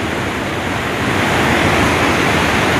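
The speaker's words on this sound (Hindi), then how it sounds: "ये नीचे जो नदी आ रही है वो पिंड नदी है" Pindar river flowing below the viewpoint near its meeting with the Alaknanda in the Himalayan hills, a steady broadband rush of fast water that holds even and fairly loud throughout, with no voices.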